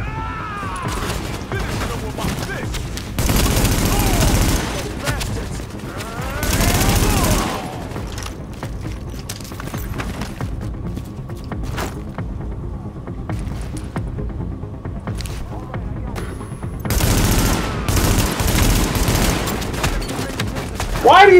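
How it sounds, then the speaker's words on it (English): Gunfire in the video game Tom Clancy's The Division, with a sniper rifle in the fight: loud, dense volleys of shots burst out in a few stretches over a steady background rumble. "He's gonna shoot me with the sniper rifle again."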